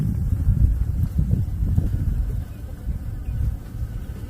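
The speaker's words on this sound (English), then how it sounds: "Those are honeybees, right? They look like honeybees to me." Honeybees feeding on bird food outdoors on a Texas farm, a close, continuous low buzzing that swells and fades as they move about, with light wind rumble and no speech.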